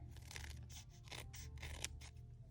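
Scissors cutting card stock paper: a quick series of close snips, repeated slicing strokes over a steady low background hum.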